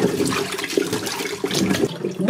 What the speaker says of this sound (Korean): 이렇게 볼에다가 물을 잔뜩 받아야 돼요